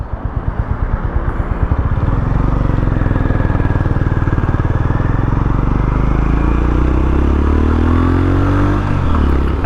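A Honda GB 350 S single-cylinder motorcycle engine pulls steadily under load in fourth gear on a slight incline, a loud close thumping drone with engine pulses rising slowly and a brief shift near the end.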